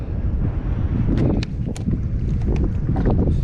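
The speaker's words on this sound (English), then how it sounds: "It's quite breezy today, but it's actually kind of helping us." Wind buffets the microphone out on the water during kayak fishing off Montauk, a loud, gusting low roar with a few brief higher splashes or creaks over it.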